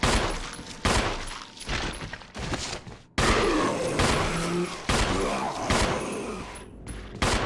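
Gunfire in the survival horror game Resident Evil HD Remaster: a string of loud, sharp shots, some in quick bursts, separated by brief pauses over several seconds, with no talk over them.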